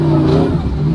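A 1300-horsepower 2JZ-swapped Polaris RZR pulls hard under acceleration, its loud, close engine holding a strong steady drone for a brief moment.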